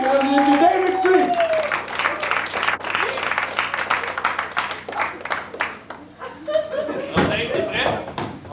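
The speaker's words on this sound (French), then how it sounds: "Alors, applaudissez Dave." An audience at a school gala claps and cheers for a performer named Dave Extreme, dense irregular applause running throughout with a voice calling out over it and a few sharp bangs.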